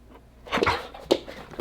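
A pet dog gives a few short, close yips and whimpery barks at a campfire cookout, two or three separate bursts with quiet gaps between them.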